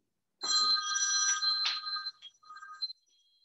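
A telephone bell rings in a quick burst of bright trilling tones, one ring of about two seconds with a few fainter chirps trailing off, fairly quiet and with no talking over it.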